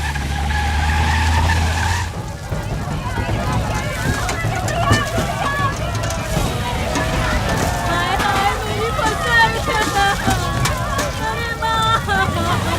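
A car skids and screeches in a film scene set near a burning sugarcane field, a loud tire scrape up front followed by rushing noise and clattering under raised shouting voices.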